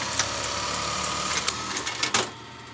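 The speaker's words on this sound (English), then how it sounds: "We put the button holes on the shirt with that machine." Industrial sewing machine stitching buttonholes on shirts in a garment workshop, a close, rapid mechanical whir punctuated by sharp clacks toward the end.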